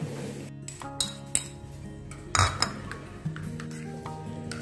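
A spoon stirs a yogurt, ginger garlic paste, pepper and salt marinade for homemade Al Faham chicken, giving several distinct metallic clinks against the bowl between quieter scraping, close and fairly soft, with no talk.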